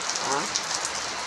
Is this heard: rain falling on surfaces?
yes